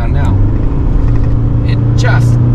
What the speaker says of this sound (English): If I put my foot down now,